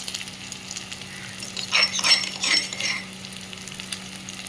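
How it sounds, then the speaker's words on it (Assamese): Chicken with sesame seeds frying in a wok gives a steady close sizzle, swelling into louder crackling bursts in the middle as the pan is stirred, then settling back to an even hiss. No one talks. "তিলখিনি দিয়াৰ পাছত অকণমান সময় ধুনীয়াকৈ ভাজি থ'ব"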